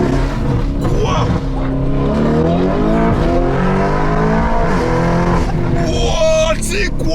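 A Lamborghini Urus tuned to 800 hp revs hard in Corsa mode, its loud, rising engine roar sweeping up and down in pitch over several seconds while people talk excitedly over it.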